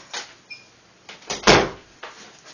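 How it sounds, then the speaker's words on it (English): A door being shut, with a few light knocks and rattles leading into one solid thud, then a softer click; quiet room, no voices. "I'm going to try to close the door real quick."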